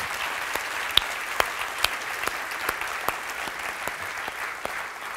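A church congregation claps steadily in praise during a worship service, a dense, even wash of many hands with a few sharper individual claps standing out, sustained without a break.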